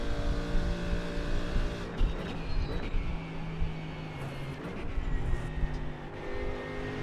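GT3 race car lapping the Daytona road course in a racing sim, its engine droning continuously with pitch shifts as it revs and downshifts through corners, heard alone without talk.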